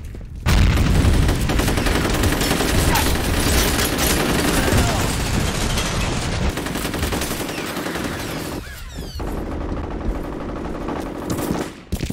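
Video game combat with dense, continuous gunfire and heavy explosive bursts filling the scene, including a grenade going off, loud and close throughout before thinning out near the end, with a voice calling out over it.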